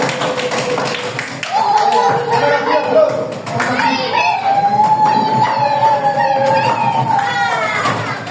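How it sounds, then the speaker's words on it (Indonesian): Grade 4 pupils in an Indonesian classroom clap in a run of quick, rhythmic claps mixed with children's voices and chatter, loud and close throughout. "Kasih tepuk tangan"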